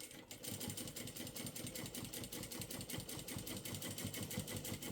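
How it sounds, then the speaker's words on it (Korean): A sewing machine stitches the back panel of a pair of jeans, close and loud, with a fast, even mechanical rattle that runs steadily without pause. "제가 미싱 굉장히 달달달달거리고 있는 게"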